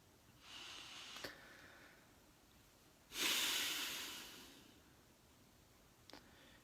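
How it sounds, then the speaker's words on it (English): Slow, deep breaths taken during a guided breathing meditation: a soft, drawn-out hiss, then a louder, longer airy exhale, quiet and close with no talking. "Take 5 times deep breathing, twice longer breathings"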